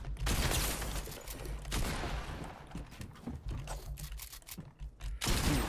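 Gunshots in the video game Fortnite come as a few loud, close blasts amid dense battle noise, with mechanical clicks and rattles between them and no talking.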